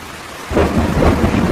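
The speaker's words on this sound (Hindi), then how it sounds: "बारिश बहुत तेज थी।" Heavy rain pours in a cartoon jungle storm, a dense steady roar that swells in after a near-silent start, with deep thunder rumbling beneath for the rest of the clip.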